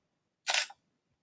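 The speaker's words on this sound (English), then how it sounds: "Let's say I am going to shoot a really fast shutter speed now." A single quick shutter release from a single-lens reflex camera set to a fast shutter speed, one crisp near mechanical snap in otherwise near silence.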